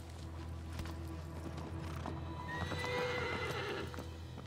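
Horse hooves clip-clop steadily in the video game Shadow of the Colossus while a horse whinnies midway, fairly faint over a low background hum.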